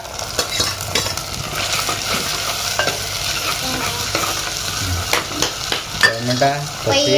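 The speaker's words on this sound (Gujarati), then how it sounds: "નાખી દીધી ડુંગળી હવે ટોમેટા" Onion and tomato frying in a pot for matka pulao, a steady sizzle under frequent scraping and clinking of a spoon being stirred, with a brief spoken word near the end.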